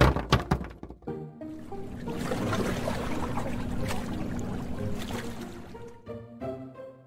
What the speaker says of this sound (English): The boat began to fill with water.